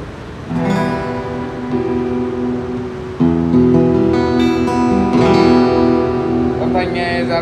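A full solid-wood acoustic guitar fitted with a Fishman 201 EQ pickup is strummed and picked through a loudspeaker, with clear sustained chords in a relaxed rhythm that grow louder partway through, and no talking.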